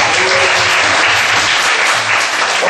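An audience in a church gives loud, dense applause that holds steadily with no talking over it.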